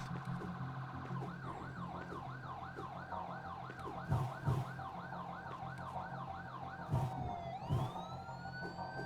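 Ambulance siren in a video game, a wailing electronic tone rising and falling in a steady rapid cycle, loud and continuous over a low engine-like rumble, with a few short thumps and a sweeping pitch glide near the end.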